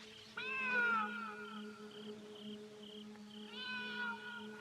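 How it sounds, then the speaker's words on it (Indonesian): A cat meows twice, a drawn-out plaintive call then a second one a few seconds later, fairly faint against a quiet background with a steady low hum. "Oh, suara kucing itu lagi."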